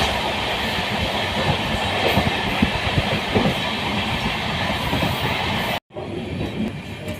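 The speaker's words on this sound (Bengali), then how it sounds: "ট্রেন আমাদের এখন ঢুকছে জঙ্গিপুর রোড" The Sairang to Kolkata Express rumbles and clatters steadily over the rails close by as it pulls into Jangipur Road station, the wheels clicking, until a sudden brief dropout near the end.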